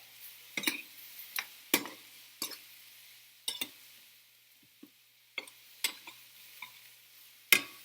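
Squash and tomato tossed in a sauté pan, heard as sparse, sharp clicks and scrapes of a utensil against the pan over a faint background, close and intermittent, without talking.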